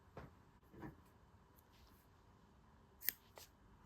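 Scissors snip crocheted yarn at the end of a granny hexagon motif: a few quiet, separate crisp snips spaced over a few seconds, close up in a still room.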